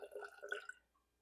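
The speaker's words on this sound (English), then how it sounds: "Now I start adding water till I get to 120 grams." Water trickling from a container into flour for cracker dough, a faint, close splashing pour of under a second that quickly fades to near silence.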